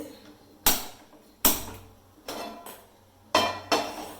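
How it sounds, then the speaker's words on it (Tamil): A metal kadai clanks onto a stovetop as it is set down for frying Chettinad chicken, several sharp metallic knocks spaced about a second apart, close and fairly loud with no talking. "சட்டி அடுப்பில் வச்சுருக்கேன். சட்டி காயட்டும்."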